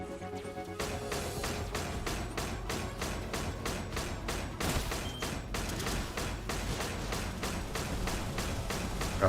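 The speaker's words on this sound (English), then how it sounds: "Oh, that's a mortar in there." Mortar fire in a 2004 RPG video game comes as a steady series of rapid, evenly spaced heavy thumps and blasts that run continuously at moderate level throughout.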